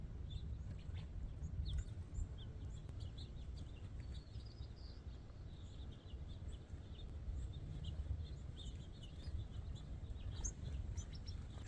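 Birds chirp in scattered, faint calls near water along a hiking trail, sitting over a steady low rumble of wind and outdoor noise.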